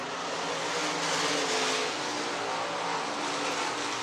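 Several race cars roar together at Boone Speedway, their engines forming a loud, continuous blended drone with no breaks and no speech.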